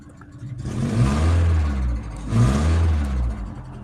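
A Peugeot 307 2.0i engine with a cylinder head fault revs up twice in quick succession, a rough, loud roar rising and falling with a clattering edge, heard close up.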